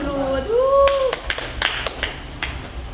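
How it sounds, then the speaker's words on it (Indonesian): Hand clapping during a braille lesson, a few sharp claps scattered after a brief voice, close and fairly loud, irregular rather than a steady rhythm. "Oke, tepuk tangan dulu."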